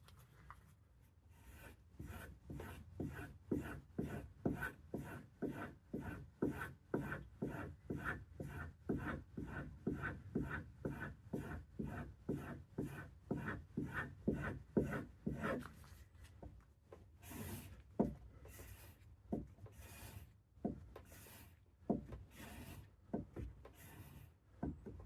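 Wooden bow grip edges are stropped on a suede-covered board charged with polishing compound, giving a steady, close run of rhythmic rubbing strokes that shift to slower, sharper swipes near the end.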